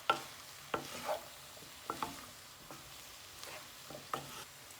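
Pineapple fried rice with prawns being stir-fried in a pan, with a quiet sizzle broken by several sharp scraping and tossing strokes of the utensil at irregular intervals.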